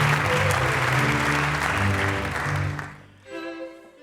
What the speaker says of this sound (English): please dedicate a big applause to these guys